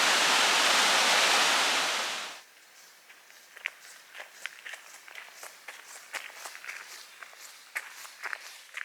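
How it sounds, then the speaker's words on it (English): A loud rushing roar of the Grey Mare's Tail waterfall in Galloway Forest Park, Scotland, fills the first couple of seconds, then stops abruptly, leaving quiet footsteps crunching along a path. "this pretty little river with what is called the Grey Mare's Tail waterfall just over there"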